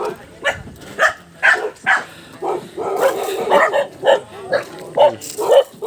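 Several dogs barking near Camp Sandugo, a string of loud close barks and yips in a rapid, irregular rhythm that keeps going for about six seconds.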